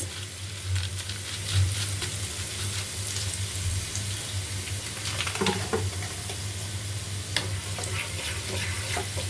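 Chili flakes frying in a pan for momo sauce give a steady loud sizzle throughout, with occasional scraping stirs and light clinks close by, and no one speaking.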